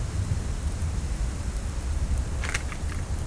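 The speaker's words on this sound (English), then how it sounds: "But I hear a storm picking up." A storm picks up in a snowy survival video game: a steady, loud roar of wind and rain fills the whole stretch without pause, with a faint hiss of gusts near the end.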